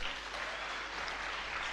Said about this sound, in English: Please, ladies, clap for yourselves.